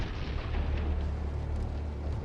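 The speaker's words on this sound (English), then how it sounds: "when the fire reaches the ammunition, we see bright sparks from the explosion" Tank ammunition cooking off after a drone strike gives a dull, distant, low rumbling burst that rolls on for a couple of seconds without sharp individual cracks.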